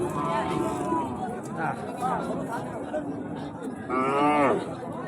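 Cattle mooing at the crowded Panchbibi cattle market, two drawn-out moos close by, the second louder and longer, over a steady babble of people talking and milling around.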